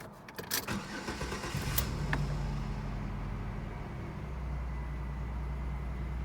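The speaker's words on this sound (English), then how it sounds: "Surprisingly, the car even starts just fine." A 2003 Chevrolet Malibu cranks over and fires up close by, with a short burst of starter clatter followed by a steady, rumbling idle that settles and continues evenly.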